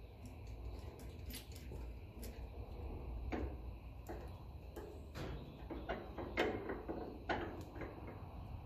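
Faint metallic clicks and ratchet-like ticks while a bolt is tightened by hand on a Massey Ferguson tractor, irregular taps spread across a quiet background with no talk.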